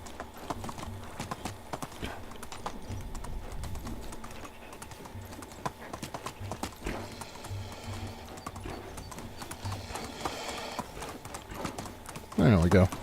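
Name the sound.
horse hooves clip-clopping while riding in video game Medieval Dynasty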